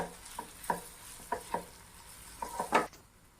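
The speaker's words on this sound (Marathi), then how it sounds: "आता हे चांगलं परतून घेऊयात" Garam masala, Kashmiri red chilli, salt and coriander powder are sautéed for dhaba-style chole. A spoon scrapes the pan in several short, distinct strokes over a quiet background.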